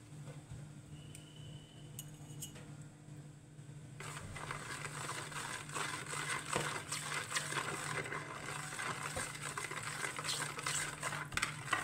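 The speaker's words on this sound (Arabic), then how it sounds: "نقلب بقى المكونات بتاعتنا دي كلها على اساس ايه السكر يدوب مع اللبن والسمنه" Milk, sugar and ghee are stirred together in a pot for basbousa, quiet at first and then a soft, continuous scraping swirl with light clinks, close by and with no talking.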